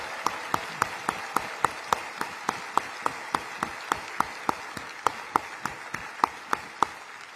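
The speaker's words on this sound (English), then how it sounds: "please join them in a big round of applause." Audience at a county address event clapping in a slow, regular rhythm of single sharp claps, roughly three or four per second, evenly spaced and distinct rather than a dense wash, with no talking.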